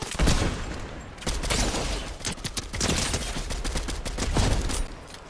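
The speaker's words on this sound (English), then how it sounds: "I knew there was gunfire like coming from." Sustained gunfire rattles in Fortnite, dense overlapping shots and bursts that keep coming in waves for several seconds, loud and close with no pauses of quiet.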